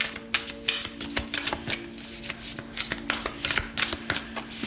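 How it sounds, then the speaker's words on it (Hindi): Tarot cards are shuffled by hand in quick, repeated riffling bursts, a close and fairly quiet papery flutter with short pauses between runs. "तो चलिए शफल कर लेते हैं मकर राशि कैप्रिकॉन साइन के लिए।"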